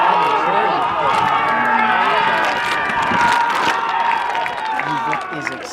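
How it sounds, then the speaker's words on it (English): Spectators on the sideline of a soccer match clap and cheer from across the field, a steady, busy crowd roar with scattered claps under continuous commentary. "You can hear their eruption of applause from the sideline across the field."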